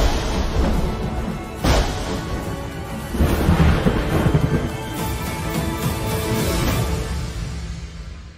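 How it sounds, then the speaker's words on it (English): A thunderstorm builds with heavy rumbling thunder and sharp cracking strikes over a steady wash of rain. The loud crashes hit twice, then a long roll follows, with no voices. "There'll be a storm soon."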